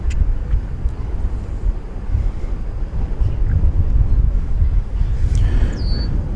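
American Airlines Boeing 737-800 jet airliner touching down at DFW Airport: a steady, loud low rumble and roar of wind-buffeted engine noise throughout, with a rising high-pitched whine near the end.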